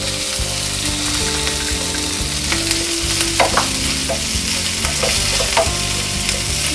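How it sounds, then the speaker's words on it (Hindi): A paste of ginger, garlic and green chili fries in a pan with chopped onion, sizzling loudly and steadily up close while a utensil stirs and scrapes through it with regular strokes. "इनको अब हम ब्राउन होने तक भूनेंगे"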